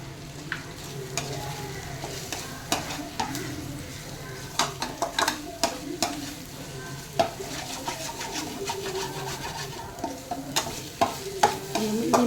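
Eggs sizzle steadily in a pan while a spoon or spatula stirs and scrapes them in quick, repeated clinks, close up and loud.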